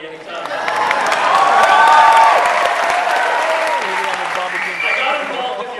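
A large audience at a rally at LaGuardia Community College in Queens claps and cheers, loud and sustained, with voices shouting over the applause.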